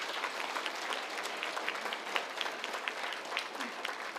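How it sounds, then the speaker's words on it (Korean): Audience applause welcoming a guest at a party members' debate forum, a steady dense clapping from a crowd that fills the whole stretch at an even level, with no voices rising above it. "힘찬 박수로 맞아주십시오"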